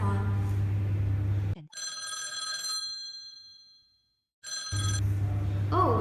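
Telephone ringing for an incoming caller during a live call-in discussion program, a clear electronic ring of two bursts standing alone between stretches of talk, with speech heard before and after.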